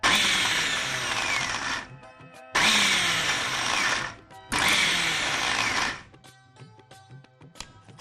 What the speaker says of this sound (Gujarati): મિક્સરને આ રીતે પલ્સ મોડ પર રાખીને કરવાનું.